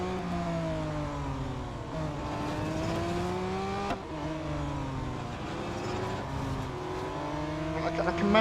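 Faulty race car engine in Real Racing 3, a steady game-engine drone with pitch sweeping up and down through gear changes, loud and continuous, with no talking.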